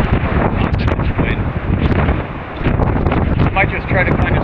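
Strong gusts from a violent atmospheric river storm buffet an exposed coastal campsite, roaring continuously against the microphone with rustling underneath and brief dips in force.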